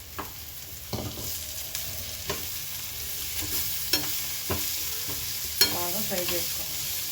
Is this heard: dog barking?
no